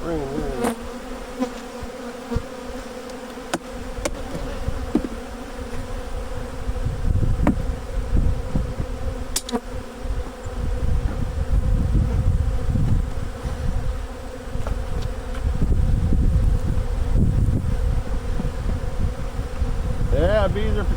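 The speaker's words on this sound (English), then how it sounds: "bees are protecting theirs" Honey bees swarm around beehive frames in a dense, steady buzz that stays close and loud throughout, with occasional faint bumps and handling noises mixed in.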